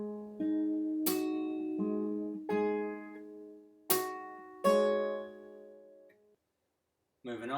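Fingerstyle acoustic guitar passage, plucked notes ringing in clear bursts with a few sharp percussive slaps, played close and alone, then a brief pause and a voice starting to speak at the end.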